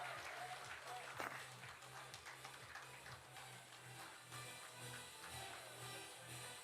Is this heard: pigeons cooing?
no